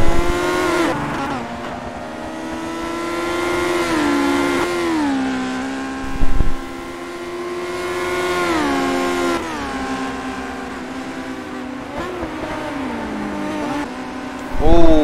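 Historic Formula 3 race cars in a sim racing game buzz around a track with rising and falling engine pitch as they brake and accelerate, a steady close engine drone with gear shifts and occasional bumps.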